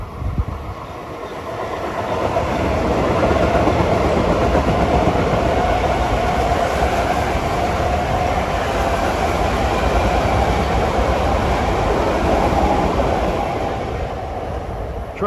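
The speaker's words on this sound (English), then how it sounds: "Here comes train 1716 for Huntington at" A Bud M3 commuter train rolls through Jamaica station, its broad rumble and wheel clatter swelling over the first few seconds, holding loud and close, then easing slightly at the end.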